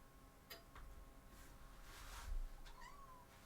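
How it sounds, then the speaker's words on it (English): A pet cat meows a few times indoors, soft and fairly close, with faint room noise between the calls. "Are you there again, kitty cat?"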